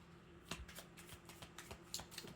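A deck of oracle cards is shuffled softly and quickly, a rapid riffle of light flapping clicks up close, with no talking.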